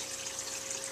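Water circulated by the tank pump of a Dutch bucket aquaponics system, a steady close rushing and trickling flow with a faint constant tone underneath.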